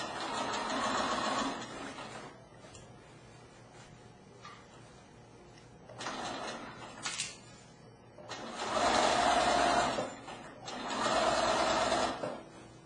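Sewing machine running a straight stitch on a pillowcase in several separate bursts of steady whirring motor, the later runs longer and louder, with quiet pauses between them.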